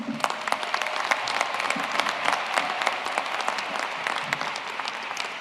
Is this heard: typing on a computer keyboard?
no